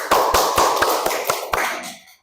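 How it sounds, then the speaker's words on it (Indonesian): Classroom applause with a quick, even burst of hand claps, about eight close claps that fade out after roughly two seconds. "Ya, tepuk tangan."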